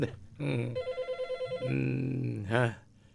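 A telephone rings during a call-in radio show, giving a warbling, pulsing electronic trill of about ten quick beats at moderate volume. A sustained tone and a brief voice-like sound come after the ringing.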